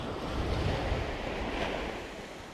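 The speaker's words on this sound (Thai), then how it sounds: "ลมค่อนข้างจะแรงครับ" Strong wind blowing across a sea coast while shore fishing for squid after rain, a steady broadband roar with surf wash underneath, close and continuous throughout.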